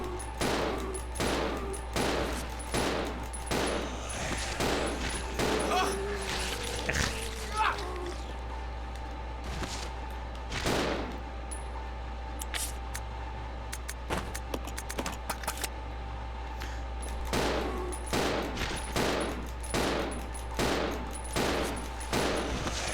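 Shotgun blasts in the survival horror game Resident Evil 0 boom repeatedly in irregular bursts over a steady low game hum, loud and close, with a voice talking through parts of it.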